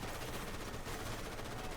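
Dense, continuous gunfire crackles throughout in Call of Duty: Modern Warfare Remastered, rapid overlapping shots blending into a steady barrage with no pauses or voices.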